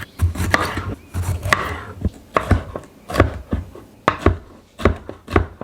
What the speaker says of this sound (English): you're gonna dice 3 peppers of your choice